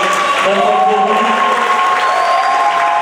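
Congregation at a French-language church service cheering and applauding the Lord, a dense steady roar of claps and voices with sustained tones over it, loud throughout.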